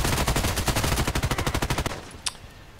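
Rapid automatic gunfire in the online shooter Contract Wars, a loud, steady stream of close shots lasting about two seconds before cutting off, followed by one faint isolated crack.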